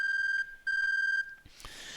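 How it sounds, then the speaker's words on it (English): A cell phone rings in the video game 428 with two long electronic tone bursts, clear and close, separated by a short gap, followed by a softer rustle of game sound. "Just then Kajiwara's cell phone rang."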